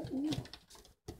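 A pigeon gives a short, low coo close by, followed by a brief pause and a soft second note.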